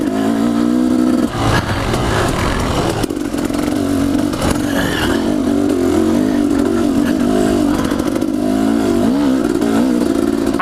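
A 2015 KTM 250XC two-stroke dirt bike engine revs loud and close, a raspy high-pitched buzz that rises and falls steadily through the whole stretch with slight clatter.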